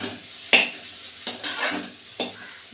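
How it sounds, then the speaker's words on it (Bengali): Food fries in a wok on a home stove, a soft continuous sizzle broken by a few sharp scraping strokes of a spatula against the metal, close and fairly quiet. "এখানে ভাজাটা বসিয়ে দিয়েছি।"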